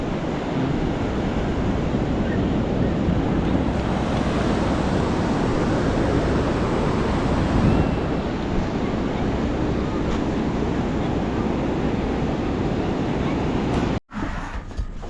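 Sea surf at a shoreline rolls on in a constant broadband wash, with wind buffeting the microphone throughout and a brief dropout near the end.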